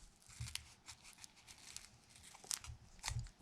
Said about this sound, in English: take your scissors and trim out all along this edge